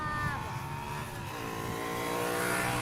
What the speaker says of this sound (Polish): tu skuterek jakiś